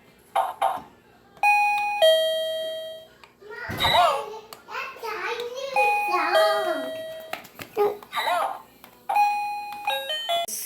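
A wireless doorbell repeats short electronic chime melodies at a moderate volume, interleaved with children talking and squealing nearby in a lively home setting.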